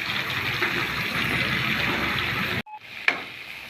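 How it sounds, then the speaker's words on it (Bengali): Eggplant pieces lightly fry in oil with a steady close hiss. It cuts off abruptly near the end, followed by a short tone and a sharp click. "দিয়ে হালকা করে একটু ভেজে নেব।"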